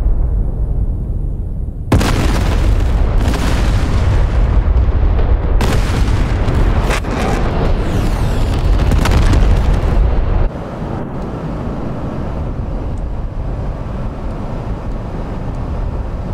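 Rockets are fired from a French Mirage 2000D in a military flight video game, with heavy booming blasts and rumbling roars: a loud eruption, several sharp bursts in a row, then a lower sustained rumble.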